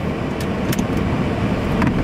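Steady interior rumble of a car driving, a low road and engine drone filling the cabin, with a few faint higher clicks and squeaks over it.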